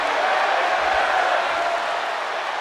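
Steady arena crowd roar in the WWE 2K24 wrestling game during a main event match, a broad sustained wash of cheering that holds level throughout without clear breaks.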